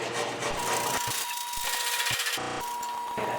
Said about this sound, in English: We're going to grate this up nice and finely.